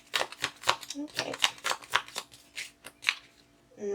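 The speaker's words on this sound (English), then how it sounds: "Just one last shuffle." Tarot cards are shuffled close up, a rapid run of crisp riffling snaps in quick rhythmic bursts.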